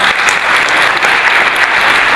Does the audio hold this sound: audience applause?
yes